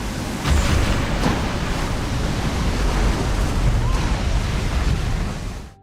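Huge ocean waves crash and roar continuously at sea around a crab fishing boat, a loud broadband wash of surf and spray with no voices.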